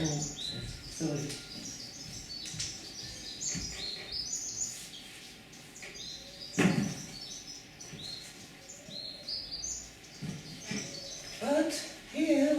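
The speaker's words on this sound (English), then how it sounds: "The birds are like just playing the whole thing." Birds chirp and tweet outdoors in scattered short calls, some near and some farther off, over a steady background hum and faint rustling.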